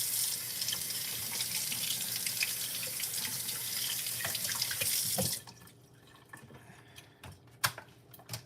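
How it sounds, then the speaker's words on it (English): A kitchen tap runs steadily as fruit is rinsed under it, a dense hissing splash that cuts off abruptly, followed by scattered drips and small clatters. "We are rinsing the fruit."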